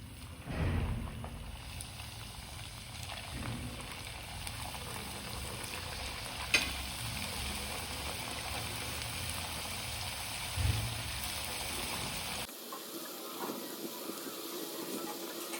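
A batch of crispy methi puri frying in hot oil, a steady, close sizzling hiss that runs throughout and then abruptly thins out near the end, with no talking.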